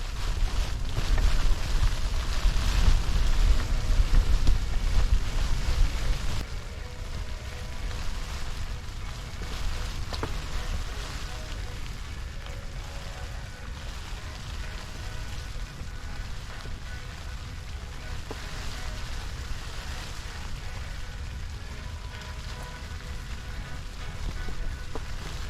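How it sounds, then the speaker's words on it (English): Sleet falls steadily during an ice fishing outing in a blizzard, a continuous granular hiss of icy pellets hitting surfaces, louder for the first few seconds and then softer and even. "This is fucking sleet. I was gonna say, it sounds like sleet."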